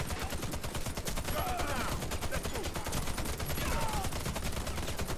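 Sustained rapid automatic fire from a ZX84 machine gun in the shooter game Warface, a dense unbroken fusillade of shots at steady volume with faint other effects mixed in.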